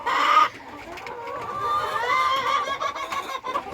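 Chinese silkie chickens in a winter brood cluck and squawk agitatedly over empty feeders, a loud burst up front then continuous overlapping clucks close by.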